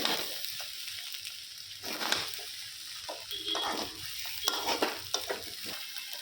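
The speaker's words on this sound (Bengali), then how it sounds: "এখানে বিরিয়ানি করা হচ্ছে, দেখা যাক কতটা কি করতে পারি।" Chicken biryani sizzles in a pot while a spoon stirs it, steady frying hiss with repeated scraping stirs close up, no voices.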